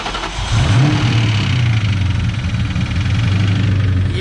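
A Ford Mustang GT engine cranks and fires up, then revs loudly and settles into a deep, rumbling idle, close by with no talking.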